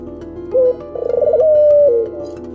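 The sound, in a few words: turtle dove cooing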